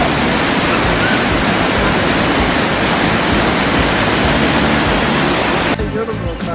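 Athirappilly waterfall, dropping about 80 feet, pours out a loud, steady, broadband roar of rushing water that stays constant throughout and shifts slightly in tone just before the end.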